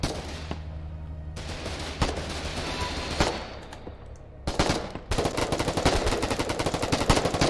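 Heavy machine gun fire in the war game Foxhole, rapid bursts of shots that grow denser and louder in the second half, with sustained rattling volleys near the end.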